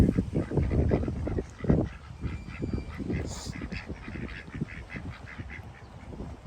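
Ducks or geese at a dairy farm give a run of repeated honking quacks, loud and close at first, then a steady series of calls continuing across the clip with faint background noise and no talk.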